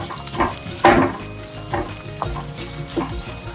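Bitter gourd frying in a kadai, with a loud, close, continuous sizzle of oil, broken by a few sharper bursts and spoon scrapes as the pieces are stirred.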